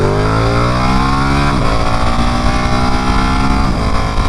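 A Ducati Panigale motorcycle engine revs loud and close while being ridden, its pitch climbing steadily, then dropping sharply at a gear shift and climbing again, with no talk.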